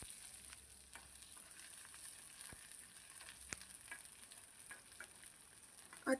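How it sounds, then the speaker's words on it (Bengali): Dried red chillies and bay leaves fry in hot oil with a soft, steady crackling sizzle and a few faint stirring knocks, ending with a brief louder clatter. "একটা সুন্দর গন্ধ বাড়ানো পর্যন্ত আমরা এটাকে ভাজবো।"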